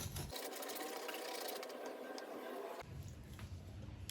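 A peeler scrapes the skin off a snake gourd in close, steady rasping strokes, with a brief break partway through before the scraping starts again.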